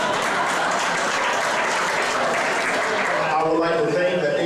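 An audience at a comedy club in North Carolina claps in a dense, steady wash throughout, with a voice faintly audible over the applause near the end.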